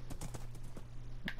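Horse hooves clip-clop in Minecraft, a quick run of hollow, evenly spaced game-sound taps over a steady low hum, with one brighter hit near the end.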